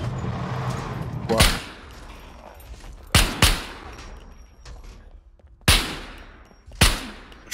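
Gunfire in the video game Scum, four sharp, loud shot bursts, some doubled, spaced a few seconds apart over a quieter background.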